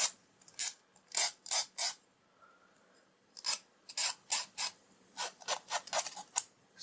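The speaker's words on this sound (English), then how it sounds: "a file is perhaps the easier tool for that." A hand file rasps across a metal padlock shim in quick bursts of strokes, each set of scrapes loud and close, with a short pause midway and no voices.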